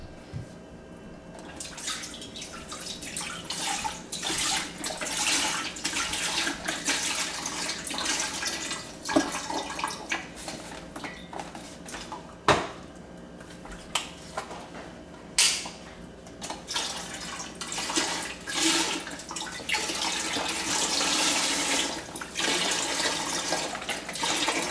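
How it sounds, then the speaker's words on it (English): Vegetable broth poured into a turkey brine made with oranges, apples, lemons, onions and garlic, a steady close splashing and gurgling pour lasting over twenty seconds with a few brief knocks and no talking. "So first I'm gonna put my vegetable broth in there."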